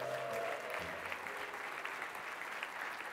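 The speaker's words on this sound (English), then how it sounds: "the crowd will go wild with applause for you" Faint, steady applause from a conference audience at an innovation ecosystems event, a distant wash of clapping lasting a few seconds.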